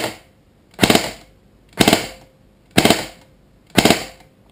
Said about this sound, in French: Là je me mets en rafale et j'aurai donc un burst normalement de 3 coups par défaut